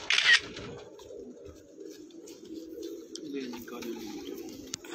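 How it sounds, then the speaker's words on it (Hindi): Pigeons coo on a rooftop in low, rolling murmurs, close and continuous, with a brief sharp click at the start and a few faint clicks later. "तो ये जो कबूतर का शो करवा रहे हैं"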